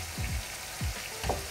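Minced meat fries in a pan with a steady crackling sizzle, broken by a few stirring scrapes and soft thumps as it is moved around; no one speaks.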